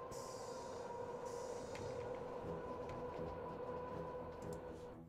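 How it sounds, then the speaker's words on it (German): A train rolls through a station in the railway simulation game Train Fever, a steady loud rumble with rattling wheels and faint squeals running the whole time, no talking. "Da muss aber erst der Zug durch."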